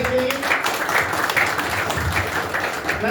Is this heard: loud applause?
yes